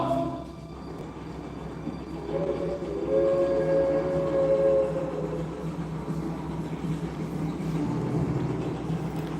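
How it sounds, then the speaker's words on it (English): A steam-era train at a Civil War museum rumbles steadily with a low mechanical drone, and a sustained horn-like tone rises in the middle before the rolling noise continues. "There's the train"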